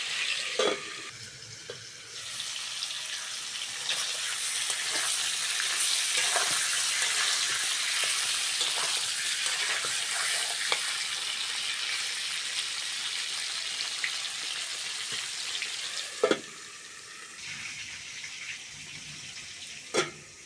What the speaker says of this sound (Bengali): ঢাকা দিয়ে দিয়ে পটলটা খুব সুন্দর করে ভেজে নিয়েছি